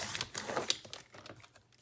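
Cardstock being trimmed for handmade journaling cards: a short run of quick, crisp cutting snips close by, with no talk over it.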